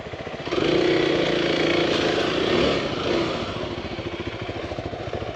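Kawasaki KLX300 dual sport motorcycle ridden off-road over logs, its single-cylinder engine revving loud and close for several seconds, then settling to a steady rumbling drone with rattly mechanical clatter.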